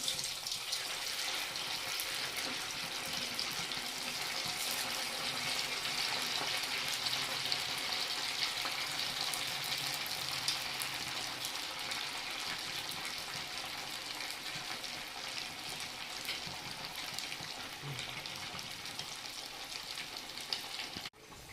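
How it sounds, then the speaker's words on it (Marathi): Sabudana vadas deep-frying in hot oil, a continuous even sizzle and crackle that stays steady and fairly close with no talk. "आता आपण साबुदाण्याचे वडे तळायला घेऊया."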